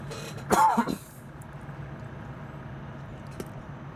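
One brief throat-clearing cough near the mic, then quiet room hum with a faint click afterward.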